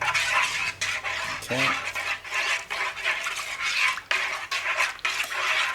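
A spoon scrapes and clinks steadily around a bowl, stirring a BBQ marinade with cayenne pepper and pepper flakes for Hawaiian chicken and pork; close, continuous swirling with a brief spoken word partway through.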